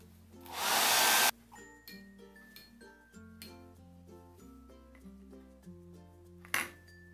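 A hair dryer blows for about a second to dry paint on an MDF craft tag, a loud close rushing whoosh that cuts off abruptly, followed by quiet bench noise and soft tapping.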